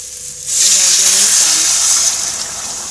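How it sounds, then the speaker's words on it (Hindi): Water pours from a kettle into a cooking pot of potato dish, a loud steady gushing stream that starts abruptly and runs on, with a brief voice murmuring beneath it early on. "अब इसमें डाल देती हूँ मैं पानी। ये है मेरी केतली"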